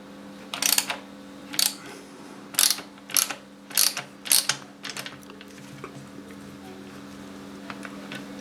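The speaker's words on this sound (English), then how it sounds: "Back off the lock nut." A wrench ratchets in a quick series of clicking bursts while backing off the clutch adjuster lock nut on a Harley Dyna in a garage, close and fairly loud over a steady background hum.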